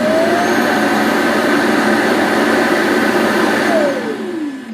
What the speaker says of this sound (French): Et les rejoindre à la station de charge pour nettoyer les lavettes.